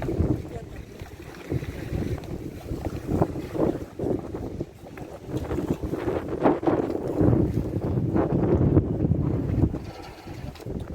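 A boat moves on open water, its engine and hull wash steady and fairly loud under heavy wind buffeting the microphone, with faint talk now and then.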